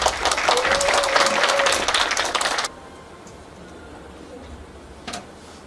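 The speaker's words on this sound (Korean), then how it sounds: "박수로 먼저 주시기 바랍니다" Audience applause at a university funding-program results forum in a hall, a steady dense clatter of clapping for a few seconds that stops abruptly, followed by quiet room tone and a brief faint noise.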